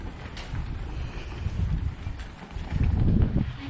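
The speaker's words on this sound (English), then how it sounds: "Listen to the wind." Strong wind blows across a peninsula at Fort Morgan, Alabama, a loud, continuous rumbling buffet on the microphone that swells toward the end, with no voices.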